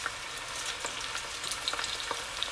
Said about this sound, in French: Dans ma casserole, j'ajoute les oignons. Je vais ajouter aussi le piment vert.